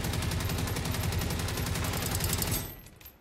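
Rapid automatic gunfire from a shaky weapon in the video game Generation Zero, a dense sustained burst of shots for about two and a half seconds before cutting off into quiet.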